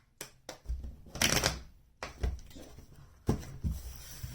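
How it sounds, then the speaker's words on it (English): A deck of tarot cards being shuffled in several quick riffling bursts separated by short pauses, close and fairly loud, with no talking. "Let's get a couple more shuffles here."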